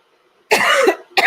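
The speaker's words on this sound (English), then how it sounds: "I'm going to cough again" A person coughs twice up close, a long harsh cough followed by a shorter one, after a moment of near silence.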